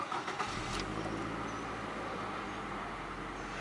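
A 2015/2016 Scion tC with a four-cylinder engine starts up, a brief crank at the outset giving way to a steady, fairly loud engine note close by, with no talking.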